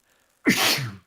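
A single close, loud sneeze bursts out after a moment of near silence, a sharp intake cut into a forceful hissing blast that fades within about half a second.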